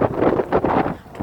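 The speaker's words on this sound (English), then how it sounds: "Oh boy, holy cow, it's windy." Strong gusts buffet the microphone outdoors in Litchfield, Illinois, producing loud, surging low rumbles that rise and fall in uneven waves over the short span.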